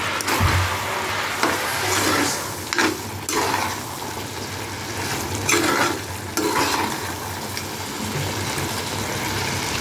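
A spoon scrapes repeatedly around a pan of mushroom gravy mixed with ground pepper, cumin and fennel powder, loud and close over a constant sizzle, with no one talking.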